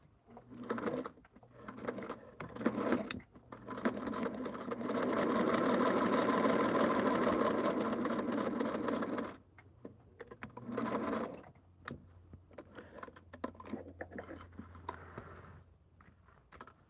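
A sewing machine stitches hexagon quilt pieces for a Halloween table topper in one steady run of several seconds, close and fairly loud. Quieter handling noises come before and after it.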